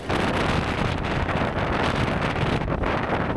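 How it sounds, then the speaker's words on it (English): Strong gale-force wind buffeting the microphone on an exposed bikepacking route, a loud, continuous roaring rush that fills the whole clip with no voices. "You can probably tell as well, it's really windy."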